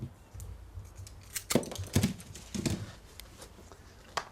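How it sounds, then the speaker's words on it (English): Secateurs snip through the ends of green garden canes in a few crisp, close cuts, roughly four sharp clicks spaced about half a second apart over light handling rustle. "just to take some green canes and cut the ends off"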